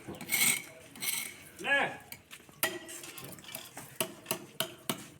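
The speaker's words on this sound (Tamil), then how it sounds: "ஐஸ் உடைக்கப்படுகிறது" A block of ice is broken at a fish market with a series of sharp cracking knocks, several evenly spaced near the end, amid busy market background and a brief voice.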